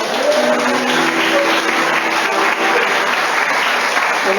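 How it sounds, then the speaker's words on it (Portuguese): Congregation at a Catholic church sermon breaks into sustained, dense applause, loud and steady throughout with no talking over it. "Dá uma salva de palmas para o Espírito Santo."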